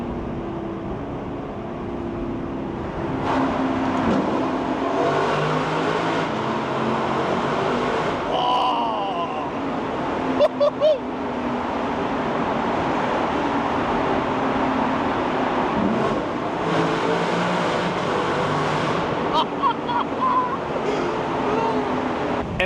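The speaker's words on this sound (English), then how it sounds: "you have that 5-liter V8 just roaring out the back and wanting to go fast" A Lexus LC500's 5-liter V8 roars through a downshift while driving, a sustained loud engine and road noise heard from inside the car, with brief rises in revs and no talking.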